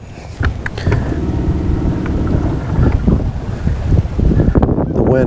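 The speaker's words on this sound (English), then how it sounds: "The wind doesn't blow the line." Wind buffets a microphone on a fishing boat, producing steady low rumbling gusts with faint water and hull noise throughout, then a few louder knocks near the end.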